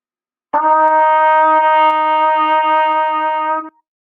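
A trumpet sustains a single steady F played with only the first valve down, a clean brassy tone with strong harmonics that starts sharply, holds evenly for about three seconds and stops, close and alone.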